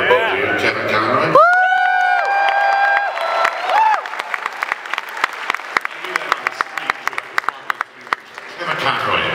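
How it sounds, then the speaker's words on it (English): A convention panel audience at San Diego Comic-Con breaks into cheering and applause, with a loud whoop early on, then dense clapping that thins into scattered claps. "Kevin Conroy, people cheer, it's great."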